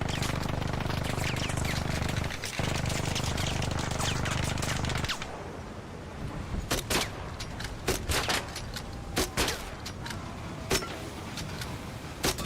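Video game gunfire: a dense, continuous burst of automatic fire, then scattered sharp individual shots and short bursts.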